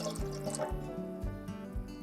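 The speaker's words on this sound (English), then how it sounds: "Then we'll put in the water." Water poured into a bread maker pan gives soft gurgling, bubbling splashes with a rhythmic glugging pulse, fairly quiet and close, with no talking.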